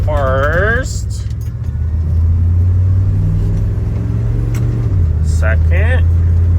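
A GMT400 OBS pickup truck with an automatic transmission idles and revs, a steady low engine drone shifting pitch as gears change, heard from inside with someone talking over it.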